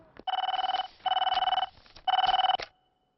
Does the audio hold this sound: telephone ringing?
yes